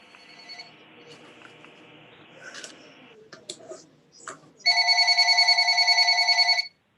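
Telephone ringing during a water and sewer commission meeting, a loud electronic trill lasting about two seconds after some faint room noise and clatter.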